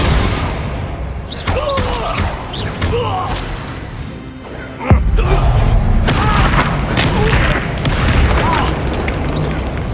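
Repeated Confringo blasting-spell explosions from Hogwarts Legacy on PS5 thud and boom, with one sharp heavy blast near the middle followed by a sustained rumbling roar, among other spell effects.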